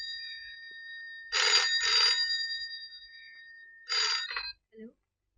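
An old-style telephone bell rings in two bursts, a long double ring followed by a shorter one, clear and fairly close in a quiet indoor scene from a Hindi film.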